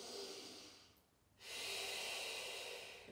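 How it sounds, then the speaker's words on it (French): Deep breathing during an abdominal strengthening workout, in through the nose and out through the mouth: a steady airy breath, a brief pause, then another long, close breath. "Inspirez avec le nez, expirez avec la bouche"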